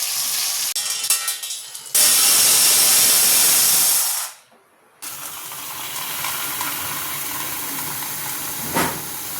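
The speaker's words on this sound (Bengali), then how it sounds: "এবার চুনো মাছটা একটু ভেজে নিচ্ছি" Small fish frying in oil in a home kitchen pan, a loud steady hiss and sizzle that breaks off for a moment, then returns at a lower level with faint crackles.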